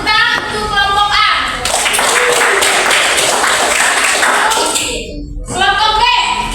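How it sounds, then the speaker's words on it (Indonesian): Classroom applause for a student group, a burst of clapping hands filling several seconds, briefly dropping out and resuming, with children's voices faintly around it. "Oke, tepuk tangan untuk kelompok A."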